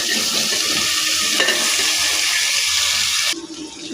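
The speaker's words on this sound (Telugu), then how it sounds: "ఇప్పుడు ఈ ముక్కలన్నీ వేసేసుకోవాలి ఒక్కొక్కటి." Vegetable pieces for sambar drop into hot oil with asafoetida, raising a loud, close sizzle that runs steadily and then cuts off abruptly near the end.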